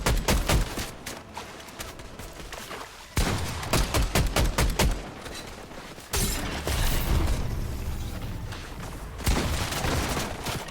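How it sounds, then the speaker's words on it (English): Gunfire in Fortnite erupts in dense, loud bursts of rapid shots, broken by brief pauses near 3 and 6 seconds, then resumes at full intensity, with no talking over it. "I hear shots right here actually."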